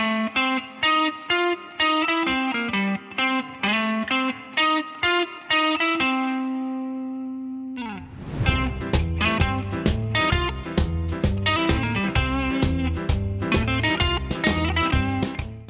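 An electric guitar with distortion plays a minor pentatonic lick, first as quick picked notes, then a held note, then a denser run with heavy low chords. The sound is close and loud, with no talking.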